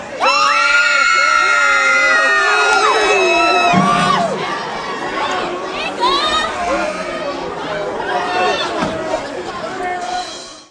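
A high school student section cheers and shouts at a 2007 boys' basketball game, Park Panthers at Case Eagles, with loud, sustained crowd yelling and high-pitched whoops that swell and fade throughout.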